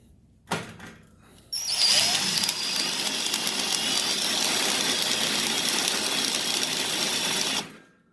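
Cordless drill bores holes in a CO2 laser panel, one short burst and then a long, loud, steady whir lasting several seconds before cutting off, with no talk.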